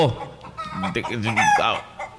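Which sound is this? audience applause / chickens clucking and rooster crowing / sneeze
chickens clucking and rooster crowing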